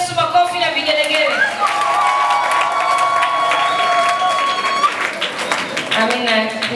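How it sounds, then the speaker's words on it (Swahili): A church congregation claps and ululates in praise of Jesus, with high wavering trills riding over a steady crowd of clapping hands and cheering for several seconds. "alafu mchapie Yesu makofi na vigelegele"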